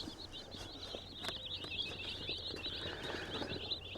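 Newly arrived meat bird chicks chirp in a rapid, continuous high twitter, faint and close, with light handling noises underneath.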